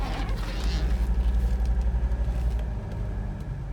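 A 1985 Mercedes-Benz 300D turbo diesel car drives along, its low engine rumble steady and close throughout with a faint pulsing throb.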